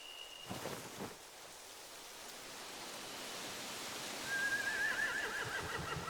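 A horse in The Walking Dead video game gives a high, wavering neigh near the end, set against a steady hiss of rain-like background noise with no talking.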